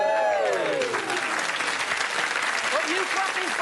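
Studio audience at a game show claps steadily in a dense, lively burst of applause, with a few voices and whoops cutting through near the end.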